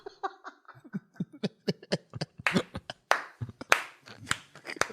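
A small studio group breaks into scattered, close-up hand claps mixed with bursts of laughter, the sharp claps uneven in rhythm and the laughter rising and falling between them.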